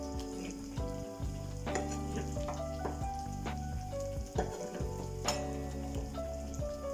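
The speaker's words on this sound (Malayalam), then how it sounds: "ഈ മാരിനേറ്റ് ചെയ്ത ചിക്കൻ നമുക്ക് ഇതിലേക്ക് ഇട്ട് കൊടുക്കാം" Marinated green chicken sizzles and fries steadily in a pan, with scattered clinks and stirring knocks standing out over the continuous crackle; no one speaks.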